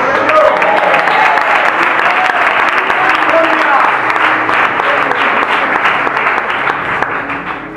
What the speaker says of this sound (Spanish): yo no quiero decir una palabra y espero que aplaudan